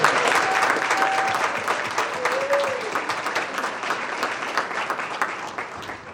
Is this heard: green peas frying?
no